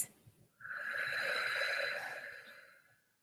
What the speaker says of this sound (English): Exhaling through the mouth.